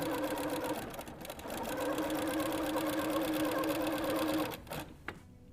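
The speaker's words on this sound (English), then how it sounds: "start with your needle down 1/8 of an inch in from the side of your binding, and then just sew that down." Sewing machine stitching down quilt binding, a loud continuous rapid mechanical whir that runs steadily and then slows and stops near the end.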